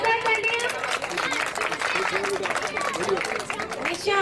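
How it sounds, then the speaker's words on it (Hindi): An audience claps and applauds for a performer, a dense patter of hands with crowd noise. Voices talk over the clapping throughout. "जोरदार तालियां"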